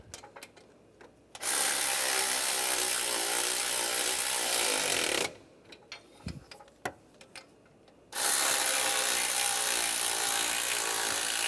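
A ratchet tightens lug nuts on a Cadillac SRX with two long, loud bursts of rapid clicking, separated by a pause filled with lighter knocks and handling noise.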